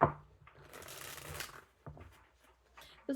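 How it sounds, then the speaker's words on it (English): A deck of tarot cards is shuffled close up, a brief riffle and soft papery flutter followed by quieter handling taps and a final card snap. "one more shuffle for the King of Wands."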